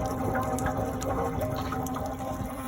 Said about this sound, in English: I think I hear more water coming out of the hot water tank over here